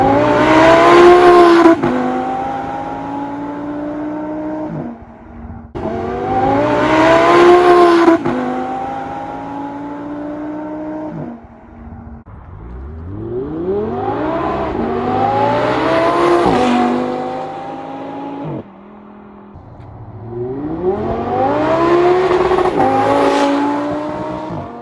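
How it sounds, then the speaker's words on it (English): Audi R8 with a V10 engine revving hard through its exhaust, loud and close, in repeated sweeping bursts that rise and fall in pitch, with gaps between the runs. "V10 Audi R8."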